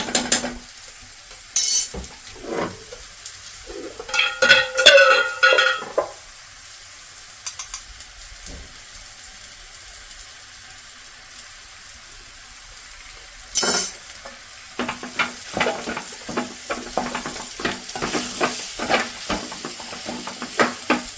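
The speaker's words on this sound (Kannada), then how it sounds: "ನೋಡಿ ಆಲೂಗಡ್ಡೆಗೆಲ್ಲ ಉಪ್ಪು ಹಾಕಿ ಒಂದು ಅರ್ಧ ನಿಮಿಷ ಆಡಿಸಿದ್ದೀನಿ" Salted potato palya being stirred in a frying pan, bursts of spatula scraping and metallic clatter over a low sizzle, with a long quieter stretch in the middle before the stirring resumes.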